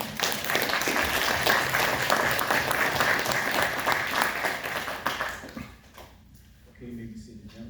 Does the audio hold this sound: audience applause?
yes